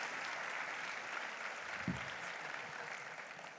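Steady applause from an audience at a regional education and leadership congress, a dense even patter of many hands held at a moderate, slightly distant level throughout.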